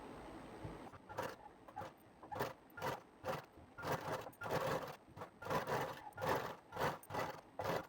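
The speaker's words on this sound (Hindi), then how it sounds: "अस्तर और मेन कपड़े को सिलाई लगा करके हम आपस में चिपका लेंगे" A sewing machine stitching a blouse lining to the main fabric runs in short repeated bursts, faint and close, with brief pauses between each run.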